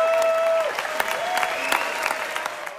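Enthusiastic applause from a festival audience giving a long ovation for an Almodóvar film premiere, dense sustained clapping with a few sharp claps standing out and faint tonal sounds running underneath.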